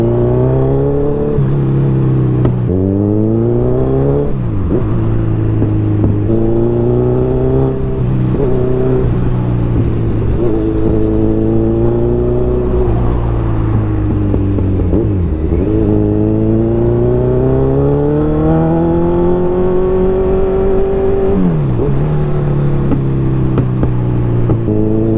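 A motorcycle rides along on a clear day, its engine droning steadily up close and rising and falling in pitch as it shifts and accelerates, with no talking.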